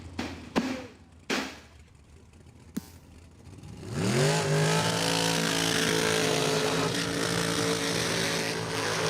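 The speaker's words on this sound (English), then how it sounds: "All right, burnouts are complete." A drag race car at Numidia Dragway does a burnout during a Super Pro final: a few sharp bangs at first, then a loud, sustained rising engine roar with tire hiss that holds steady to the end.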